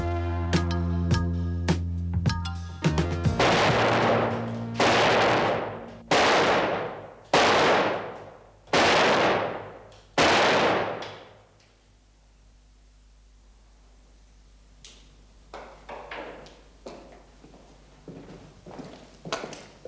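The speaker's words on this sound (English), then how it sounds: "Where'd you learn to shoot like that, Tommy?" Gunshots from a handgun in a television drama scene, about six loud sharp blasts spaced roughly a second apart, each with a decaying tail, followed by fainter clicks and shuffling.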